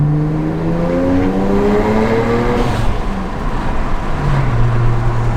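A BMW with a straight-pipe exhaust revs and accelerates hard, its loud raw engine note climbing through rising harmonics, dipping briefly, then pulling again up close with a raspy roar.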